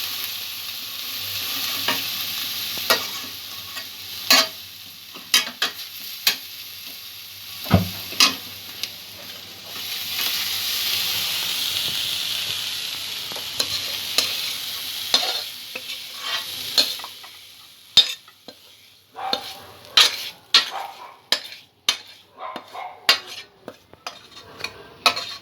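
Spoon scraping and stirring grated coconut with jaggery in a pan, a soft steady sizzle underneath with irregular clicks and knocks of utensil against metal, close and fairly loud, no voices.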